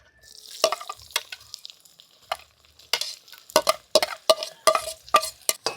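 Sliced onion and green chillies are sautéed in hot oil in a pan for a Thattukada-style boti fry, with sharp repeated stirring scrapes over a soft sizzle, close and fairly loud, with no speech.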